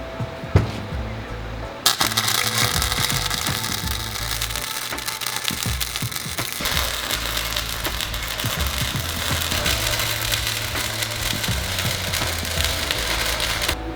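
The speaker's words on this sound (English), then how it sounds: "I'm gonna go ahead and get this welded up" A welder lays beads on a Damascus steel billet, a steady crackling sizzle that starts abruptly after a short quiet lead-in and continues loud and dense with sharp spits throughout.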